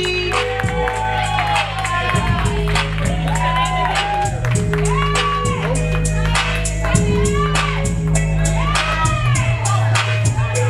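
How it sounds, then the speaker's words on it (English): A comedy club crowd at the ComicVille Comedy Show claps, whoops and cheers loudly and continuously for comedian Funnyman Brazy, while someone shouts over the noise. "Right now, clap, clap, clap."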